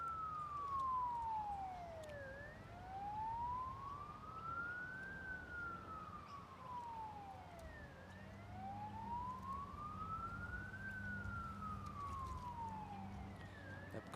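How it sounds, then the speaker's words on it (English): A fire engine siren wails in the distance at a golf championship, a long rising-and-falling sweep repeating steadily for the whole stretch over a low background rumble. "That could be the fire engine in the background"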